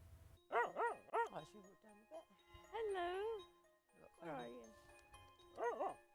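Rescue-shelter dogs bark, yip and whine close by during a walk, several voiced outbursts spaced out over a few seconds with quieter gaps between, some drawn-out and wavering.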